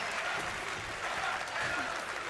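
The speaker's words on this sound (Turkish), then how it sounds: "Güzel bir alkış yapar mıyız lütfen?" A crowd claps steadily throughout, a dense, even wash of applause from a moderate distance, a TV talent show studio audience.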